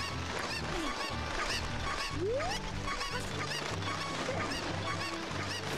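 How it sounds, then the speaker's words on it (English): Cucco chickens clucking and squawking in the video game Ocarina of Time, repeated honking calls and rising squeals over a busy, steady bed of game music and effects. "What are you doing with that chicken?"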